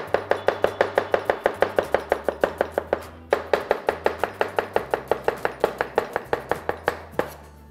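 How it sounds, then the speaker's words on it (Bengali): An onion is sliced with a knife after being cut through the middle, a steady run of crisp, evenly spaced chops on a board at close range, with one brief pause partway through and no talking. "অনিয়নটা আমরা মাঝখান থেকে কেটে নিলাম"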